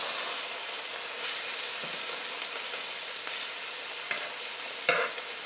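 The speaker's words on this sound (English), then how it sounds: "I'm going to baste both of them. Definitely gonna need more butter." Steaks sizzle in a pan while being basted with butter, a steady loud hiss broken by a few brief spoon clinks and spattering pops.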